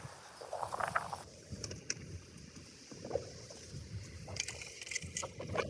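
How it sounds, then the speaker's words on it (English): Strong, cold wind blows outdoors while a Jaguar XKR is being detailed, gusting in uneven rushes and buffeting the microphone with rumbling low noise and scattered clatter, with no talking. "Oh, the wind today is a lot."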